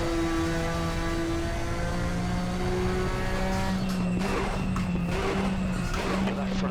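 Vintage race car in the RaceRoom racing game drifting through a section of the Sonoma circuit, its engine droning steadily while the tires squeal and skid loudly through the second half.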